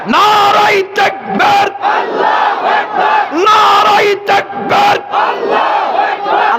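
A large sermon crowd chants the takbir, Allahu Akbar, in loud, repeated unison bursts separated by short pauses, with a leading voice calling between the responses.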